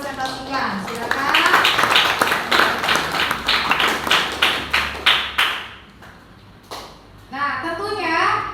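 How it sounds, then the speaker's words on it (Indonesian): A classroom of children claps for their fellow students after presentations, a dense burst of hand claps that thins out and stops, followed by a voice speaking. "Kita beri tepuk tangan meriah dulu untuk kalian semua yang sudah mempresentasikan."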